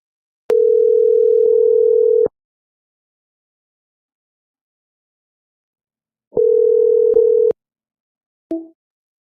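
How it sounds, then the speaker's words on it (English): A steady telephone tone sounds while a number is being dialed, holding for about two seconds, breaking off, then returning for another second before a brief clipped blip ends it. "I dialed the number that was on screen."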